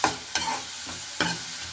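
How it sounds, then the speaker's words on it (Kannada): Onion and carrot being stirred into dosa batter, with soft scraping spoon strokes at a slow, uneven rhythm, up close and without speech. "ಈರುಳ್ಳಿ ಮತ್ತು ಕ್ಯಾರೆಟು ಎಲ್ಲವೂ ಕೂಡ ಮಿಕ್ಸ್ ಆಗಬೇಕು, ಈ ಥರ ಹೊಂದ್ಕೊಳ್ಬೇಕು."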